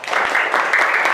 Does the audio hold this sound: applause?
yes